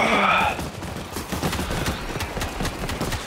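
Rapid gunfire from a sniper rifle in the zombie shooter World War Z: Aftermath, a dense stream of sharp cracks and bangs layered over game noise after a brief louder burst at the start.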